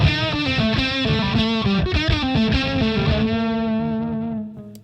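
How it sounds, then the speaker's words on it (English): Electric guitar run through a Boss DS-1 distortion pedal plays a loud, gritty, sustained riff of chords and bends, saturated and bright, fading as the final notes ring out. "So I want to see if this DS1 will hurt the ears."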